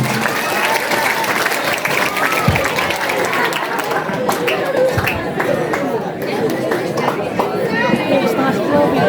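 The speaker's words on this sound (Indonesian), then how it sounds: "Tepuk tangannya mana untuk masing-masing regu?" Audience at a madrasah girls' quiz final claps loudly for the competing teams, dense applause mixed with lively chatter and scattered voices throughout.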